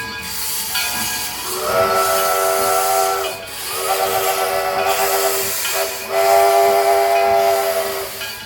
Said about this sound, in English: Was this the train you wanted to ride on?